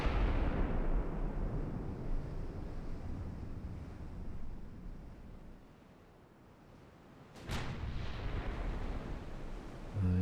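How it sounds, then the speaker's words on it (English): Big 15-inch battleship guns fire in a naval warfare game, heard as rolling, wind-like low rumbles with one sharp distant crack near the end, a continuous heavy roar and no talking. "we're already taking fire from those big 15-inch guns on those battleships"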